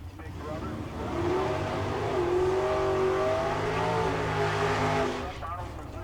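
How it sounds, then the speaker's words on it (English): A Chevrolet-powered dragster idles and revs with a deep, rumbling roar at a drag racing event, loud and steady before easing off, while an announcer talks over it. "Chevrolet powered dragster, ready to go."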